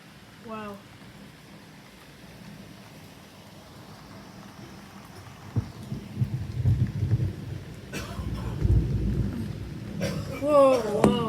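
Heavy rain during a thunderstorm at a house, quiet steady rainfall building to deeper thunder rumbles in the second half, with a person speaking briefly at the start and end.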